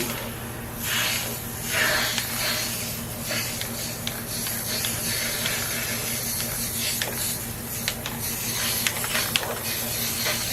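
Rust-Oleum spray paint hisses from an aerosol can in steady bursts, loud and close, the broad hiss swelling and easing over a constant low electrical hum in an indoor room.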